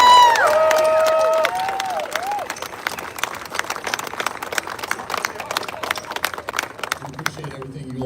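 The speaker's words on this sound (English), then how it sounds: "I want to give another round of applause for our first responders for being out here." Outdoor crowd at a grand opening ceremony applauds and cheers for first responders, with whoops and whistles at first, then scattered clapping that thins out as a voice begins speaking.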